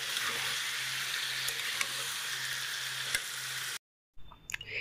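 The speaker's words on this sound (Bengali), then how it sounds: "এবার একসাথে এটা ভালো করে মিশিয়ে কষাতে থাকবো।" Marinated chicken with tomato frying in a pan, a steady close sizzle with faint stirring ticks, cutting off briefly near the end before a few clinks resume.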